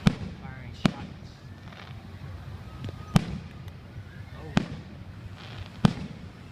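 Fireworks exploding outdoors: five sharp, distant bangs come at uneven intervals over a steady low rumble of background noise, with people talking between the blasts.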